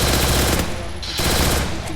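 Loud automatic gunfire rattles in a shooting video game, close and continuous rapid bursts with a brief dip in the middle before the firing resumes.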